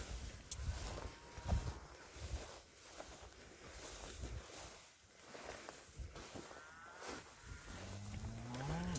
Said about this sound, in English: Another cow's calf is sucking right now